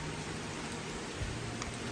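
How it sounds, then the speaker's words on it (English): Rain falls steadily on a backpacking camp in the Cranberry Wilderness of West Virginia, a dense even hiss of drops with a few louder nearby taps. "they predicted the rain would start at 1 o'clock, and it did"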